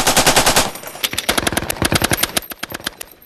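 Automatic weapons fire in repeated rapid bursts at an outdoor machine gun shoot, loud and close, with a long sustained burst followed by several shorter staccato volleys and no talking.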